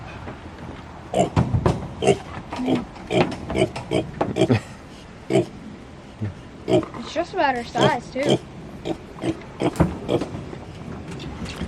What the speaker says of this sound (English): This little pig came from a big old barn full of other pigs